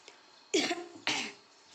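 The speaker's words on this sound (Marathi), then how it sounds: "खोकला लागलाय तिला" A girl coughs twice in quick succession, close and sharp, in a quiet rural farm setting, with a short pause between the two coughs.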